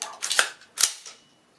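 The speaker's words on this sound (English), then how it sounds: "Pull trigger, trigger should fire." The trigger on a break-barrel air rifle releases, giving two sharp, close snapping clicks about half a second apart, each with a short metallic ring, followed by quiet.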